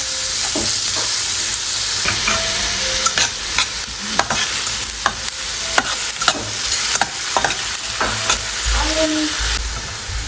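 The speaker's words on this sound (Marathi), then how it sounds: "यामध्ये आपल्याला कांदा टाकायचा आहे तुपामध्ये आणि हा चांगला परतून घ्यायचा आहे आपल्याला" Chopped onion sautéing in ghee in a pan, a continuous sizzle broken by repeated scraping stirs of a spatula, close and fairly loud.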